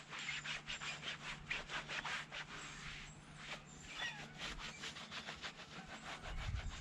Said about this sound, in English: just give it a wipe